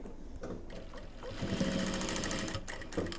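A sewing machine stitches a zipper onto a bag in a steady, close whirring chatter that speeds up and runs continuously for a couple of seconds, with brief pauses at the start and end.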